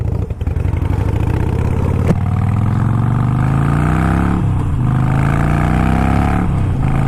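A loud 2018 Harley-Davidson Sportster 1200 Iron exhaust roars up close, the engine note climbing and dropping between gear changes as the bike rides along at about 50 mph.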